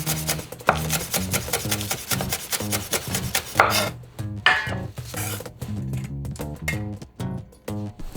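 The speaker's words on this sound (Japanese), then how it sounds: "先端を切り落とし、縦に切れ込みを入れ粗みじん切り" A knife chops a leek on a cutting board with rapid, steady, close-up thuds in a dense rhythmic run, pausing briefly partway through before resuming.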